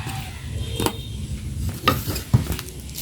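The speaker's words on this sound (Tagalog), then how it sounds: "magpiprito na lang tayo" Flour-coated food frying in a pan for adobo, a steady low sizzle with a few louder clinks and stirring scrapes of a spoon against the pan.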